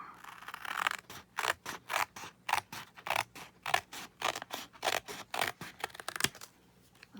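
Scissors snip through a paper tab for a coffee-themed junk journal, a close, rhythmic series of about a dozen crisp cuts at a steady pace.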